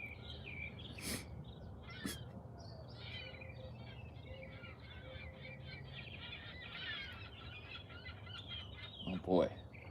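Large seagulls give several shrill, scattered calls at mid distance over a steady outdoor background hum, and a sharper, louder cry comes near the end.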